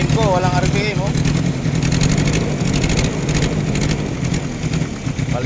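A Toyota 2C diesel engine in a Tamaraw FX idles roughly with a misfire and hard-starting fault. The close, uneven chugging knock continues under someone talking.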